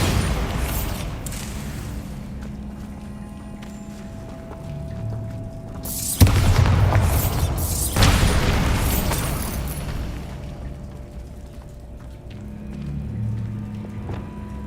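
Bombarda spell blasts from the Hogwarts Legacy video game: two loud, sharp booming explosions in close succession, each with a crackling burst that decays over a couple of seconds, set against a low ambient game background.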